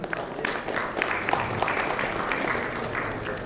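Audience clapping at a panel event on AI in debt collection, a moderate, steady round of applause with a few sharper claps and cheers popping out above the crowd.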